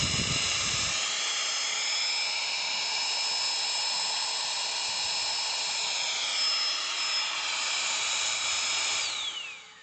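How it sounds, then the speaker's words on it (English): A small 12 volt electric air pump for inflating mattresses runs with a steady high-pitched whine and buzz, loud and close, holding constant for nearly ten seconds before starting to wind down at the end. "We got ourselves a 12 volt little air pump that I use to inflate mattresses."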